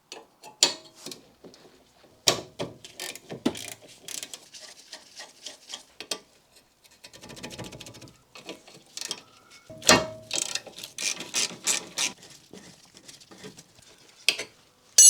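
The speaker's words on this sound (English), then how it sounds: "We can now start removing the caliper by removing the slider bolt here and one underneath." A ratchet with a 14mm socket undoes a brake caliper slider bolt on an NC MX-5 Miata, giving bursts of fast close clicking with a few pauses and louder knocks in between.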